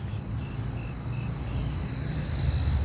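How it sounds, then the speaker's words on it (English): Steady high-pitched cricket chirping carries on unbroken over a low, quiet night hum. "I can hear a lot of crickets tonight"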